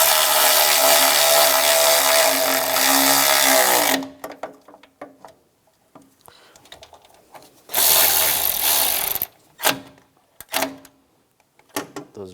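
A power ratchet drives bolts on a 2004-2009 Toyota Prius radiator and condenser fan assembly in a garage. Two long buzzing runs of several seconds each are followed by short clicking bursts and a few brief zips, close up and loud.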